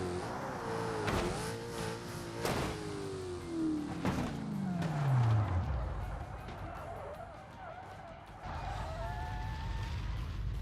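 Car in the BeamNG driving game accelerating under a speed boost, engine pitch climbing steadily over several seconds then dropping off, with loud sustained engine tone and brief impacts, no talk.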